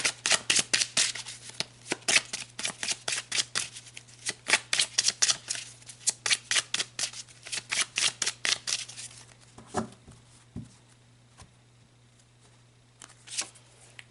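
Tarot cards being shuffled by hand, a rapid series of crisp riffling and slapping strokes, close and clear, thinning out into a few scattered card sounds toward the end.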